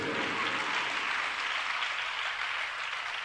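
Steady applause from a crowd, even and sustained, with no voices over it.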